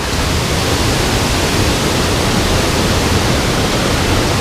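Rushing river water pours toward a second waterfall, a loud, steady broadband roar that fills the whole moment with no break or voices.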